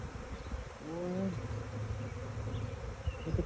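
Honeybees buzz around a hive outdoors in spring, a dense steady drone with a louder individual bee briefly passing close, set against low wind rumble.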